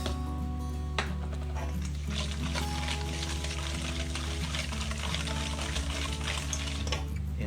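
Vanilla essence is poured into a white chocolate blondie batter with a faint liquid trickle, brief and soft beneath continuous background music.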